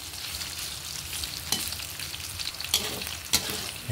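Sahog sizzling in hot oil in a pan for adobong sitaw, a steady close frying hiss with a few sharp stirring scrapes.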